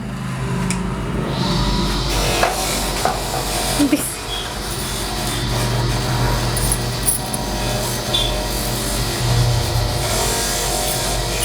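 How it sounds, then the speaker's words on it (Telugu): A panchaloha metal ring is polished by hand, giving a continuous close rubbing and scraping sound with a steady, gritty texture and faint background noise. "సాయిబాబా ఉంగరం చూడండి ఇప్పుడు లైవ్లో మీకు పాలిష్ వేసి చూపిస్తున్నాం"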